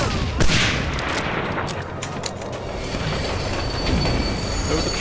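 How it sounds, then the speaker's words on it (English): Train rolling past in the World War II shooter Medal of Honor: Allied Assault, a steady loud rumble of rail wagons with metallic wheel squeal and faint clatter throughout, no talking. "That is the coolest train I've ever seen."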